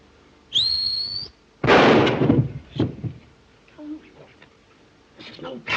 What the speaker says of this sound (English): This is no time to whistle.